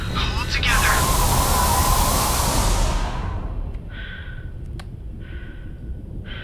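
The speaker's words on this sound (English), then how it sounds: "You just walk out and you just hear nothing except Shepard breathing." Commander Shepard's breathing inside a sealed helmet in the silent space of the Mass Effect 2 intro: a loud rushing whoosh fades into quiet, then two slow, soft breaths follow close up.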